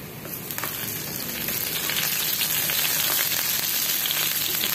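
Horse meat tapa frying in a pan, a steady dense sizzle that grows slightly louder and stays continuous throughout, close and without talk.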